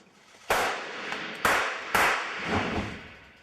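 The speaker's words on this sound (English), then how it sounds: "Fires off, the little explosion goes, we get a hole, blood comes pouring out." Squib blood-hit explosives fire under a shirt on a film set, three sharp cracks about half a second apart, each trailing into a brief noisy decay.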